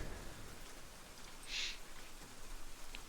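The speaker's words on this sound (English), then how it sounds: "until I woke up to the sound of rain" Steady rain falls throughout as a dense, even hiss with a brief brighter swell near the middle, no voices present.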